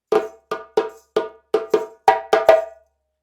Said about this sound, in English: So the call starts on the flam, we'll do a tone, bri, ti, ti, ti, ti, ti, and then 3 slaps.